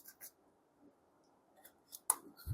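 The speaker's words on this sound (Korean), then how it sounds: "이 부분이 핀셋으로 약간 펴볼까요? 눌러서" Metal tweezers press on and straighten a dented iPad Air 3 frame during display mounting, making faint, sparse clicks and light scrapes up close, with one sharper click near the end.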